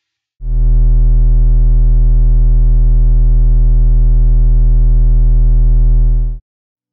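An isochronic entrainment tone, a loud steady low-pitched buzzing hum rich in harmonics, holding evenly for about six seconds with a smooth start and stop.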